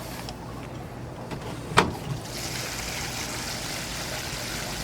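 Water flushes through the black tank of a Grand Design Reflection RV, a sharp clunk followed by a steady, close rushing hiss that holds to the end.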